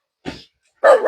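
Dogs barking close by, a short bark followed after a pause by a louder, longer pair of barks.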